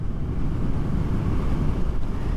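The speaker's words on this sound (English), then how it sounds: "You get the intake noise, the muffler gives a nice throaty tone" Royal Enfield Classic 350 motorcycle on a road ride, its engine and exhaust giving a steady, throaty low rumble with wind noise mixed in, continuous and loud throughout.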